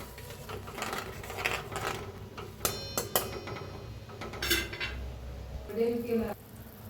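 A spoon scrapes and clinks against a metal pot while sev bhaji masala is stirred into a cooking vegetable curry, giving irregular close taps and rattles with quieter pauses between them.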